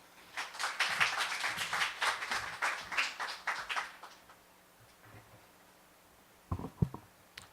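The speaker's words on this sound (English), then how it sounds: "Give him a big round of applause." An audience at an evening literary reading applauds a writer being introduced: several seconds of lively clapping from a modest crowd that tapers off, followed by a few soft taps and handling noises.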